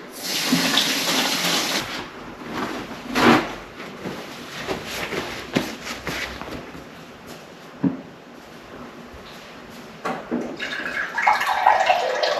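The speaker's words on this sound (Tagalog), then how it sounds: "Maghugas muna ako ng kamay." Hands being washed under running tap water, a steady close splash and gush that swells and fades irregularly as the hands move under the stream.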